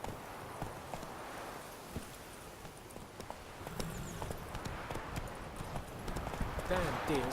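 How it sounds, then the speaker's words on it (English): Hooves of a horse clip-clop at a walk in Witcher 3, a soft uneven rhythm of muffled steps amid game ambience, with a voice talking over them. "Let's go ahead and let's get on our horse."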